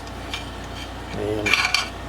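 Metal parts clink and rattle as the muffler is pulled off a Stihl MS440 chainsaw during a teardown, with a few close, brief metallic knocks and scrapes.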